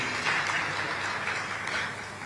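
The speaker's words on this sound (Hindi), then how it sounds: "महिलाओं के लिए ताली बजनी चाहिए इसके लिए" Studio audience claps for women at a televised panel discussion on Chhattisgarh's development, a steady burst of applause lasting a couple of seconds with no pause.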